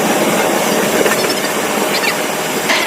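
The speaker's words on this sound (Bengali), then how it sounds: "এখন কিন্তু আমাদের ট্রেন সেই স্টেশন চলে এসেছে যেটা খুব পপুলার ছিল প্রসেনজিৎ সিনেমা।" Train arriving at Santragachi station on a Bengaluru to West Bengal journey, with a steady loud rumble of carriages and rhythmic rail clatter heard from on board, without voices.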